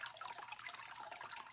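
Water drains from finely beaten paper pulp in a papermaking stencil setup, a faint, continuous trickling and dribbling with small drips, quiet and close.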